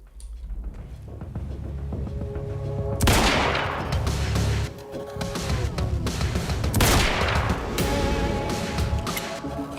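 Gunfire in a Remedy video game: loud, dense bursts of rapid shots with crashing impacts, two heavy volleys standing out, near and continuous, with no talking.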